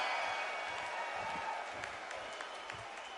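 A crowd cheering and applauding at a boxing match in the video game Undisputed, a steady roar of clapping and voices filling an arena, fairly faint and slowly fading, with a few louder claps poking through.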